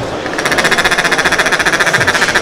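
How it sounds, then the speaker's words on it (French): A farm tractor passing close by near a duck-call workshop in Mantes-la-Jolie, France, with a loud, steady pulsing engine chug that stays constant throughout, no voices. "à côté il y a le tracteur qui passe"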